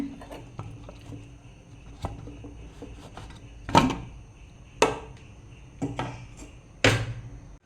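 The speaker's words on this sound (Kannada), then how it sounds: "ಕುಕ್ಕರ್ ಓಪನ್ ಮಾಡ್ತೇನೆ" A pressure cooker being opened after cooking chickpeas and carrots: a series of close metallic clanks and knocks, spaced unevenly over a few seconds against a quiet kitchen background.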